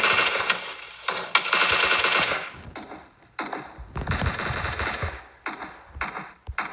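Video game gunfire in bursts of rapid automatic shots, loud and close, with pauses and scattered single shots in between.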